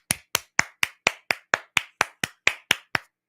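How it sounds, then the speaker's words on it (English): Twelve evenly spaced, sharp single claps, close and dry, forming a steady rhythmic beat with no other sound. "can we just clap?"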